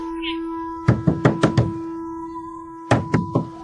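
Knuckles rapping on a door in two bursts, four or five quick knocks and then three more, loud and close, over a steady electronic tone, with no speech during the knocks.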